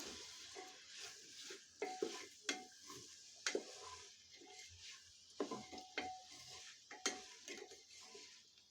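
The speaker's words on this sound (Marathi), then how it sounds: "अर्धा छोटा चमचा मिरची पावडर मसाले ही परतून घ्यायचे आहेत" Spices with chili powder are stirred and sautéed in a pan for masala rice, with repeated scraping and clinks of a spoon against the pan over a faint sizzle, in uneven bursts.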